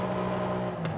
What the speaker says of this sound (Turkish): Ve yarış tipi egzoza bakalım.